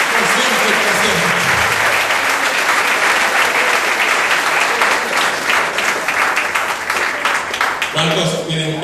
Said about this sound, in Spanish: Aplaude, aplaude, aplaude, aplaude al que vive en tu reino, por siempre y por siempre.